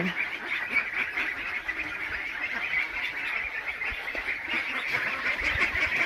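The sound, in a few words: Khaki Campbell ducklings quacking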